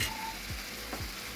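Tomatoes drop into a hot oiled pan with tilapia and catla fish head, giving a steady sizzle with a couple of soft thumps and stirring scrapes.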